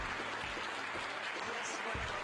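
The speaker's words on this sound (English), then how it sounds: "The James Webb Space Telescope amidst applause here in the Mission Control Center" Mission Control Center staff applaud as the James Webb Space Telescope separates from its launch vehicle, a dense wash of clapping and cheering mixed with voices talking over it throughout.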